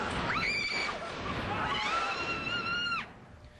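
A haunted house scream effect in a scare attraction, fired by a foot pedal, rings out as one long, loud, sustained shriek lasting about three seconds before cutting off sharply.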